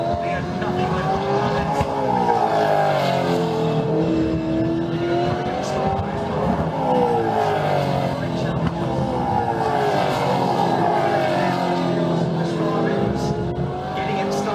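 V8 Supercars scream through a fast 210 km/h corner at The Bend, engines rising and falling in pitch as several cars pass close in succession, loud and continuous, with a commentator talking over the roar.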